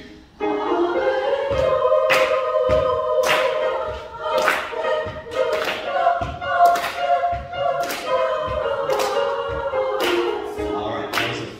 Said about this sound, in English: So tenors and basses, you're the only ones pat clapping now.